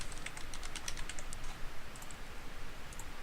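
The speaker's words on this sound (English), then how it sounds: "type in a root password that you will remember" A burst of quick, light clicks on a computer keyboard while a password is typed, followed by a pause and a few more keystrokes, all over a steady hum and without speech.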